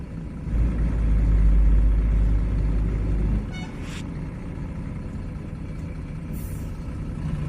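A heavy loaded lorry on a road rumbles close by with a deep engine drone that fades after a few seconds, followed by a brief hiss and softer traffic noise.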